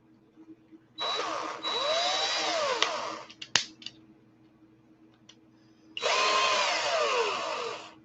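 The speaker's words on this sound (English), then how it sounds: "So it's on the drill" A power drill spinning a wire coil whirs in two bursts, a high, steady whine lasting a couple of seconds each, with a few clicks and quiet pauses between.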